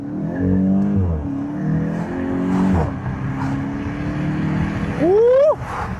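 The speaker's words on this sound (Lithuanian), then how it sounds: "Galim pasižiūrėti, kaip važiuoja šitie 2 litrai." A 2-litre VW Golf GTI drives with a steady, loud engine drone that rises and falls through gear changes, ending in a sharp rising rev near the end.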